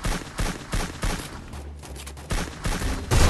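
Bursts of gunfire in the video game Free Fire come in several separate volleys, a brief lull in the middle, then more shots, moderately loud and close.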